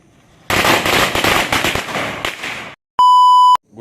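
Firecrackers go off in the morning as a new Hyundai Creta is celebrated: a loud, rapid string of sharp cracks lasts about two seconds and ends in silence, followed by a short, steady electronic beep.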